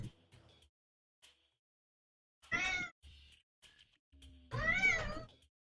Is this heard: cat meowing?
yes